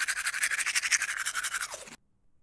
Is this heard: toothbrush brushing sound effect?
yes